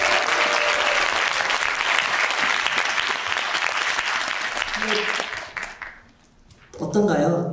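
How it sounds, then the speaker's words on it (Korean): An audience at a forum opening event applauds loudly and continuously, the clapping fading out before a voice begins speaking at the end. "여러분 큰 박수 한 번 더 부탁드리겠습니다."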